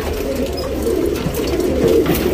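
Tournament pigeons at a Bangalore loft coo softly and continuously, a low throaty murmur of several birds layered close together with no talking.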